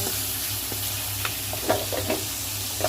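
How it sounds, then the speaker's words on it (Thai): Pork sizzles and crackles steadily in a hot pan while being stir-fried until it turns white, with occasional scrapes and clicks as it is stirred; no one speaks. "ผัดหมูให้เขาสุกนะคะ ให้เขาไปสีขาว"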